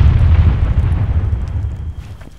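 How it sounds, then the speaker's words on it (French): In the Altis Life online game, explosions roll out as loud, deep booming rumbles with crackling debris, slowly fading over a couple of seconds. "Les explosions sont vachement impressionnantes."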